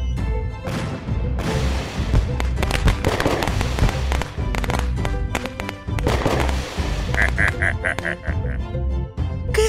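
Rapid bursts of cartoon fireworks crackle and pop in a dense, loud barrage, with sharp bangs scattered throughout.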